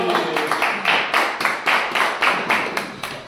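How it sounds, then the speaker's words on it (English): A small group claps at a calisthenics training session, about a dozen sharp, evenly spaced hand claps in a quick rhythm, close and clear with no talk. "Applause!"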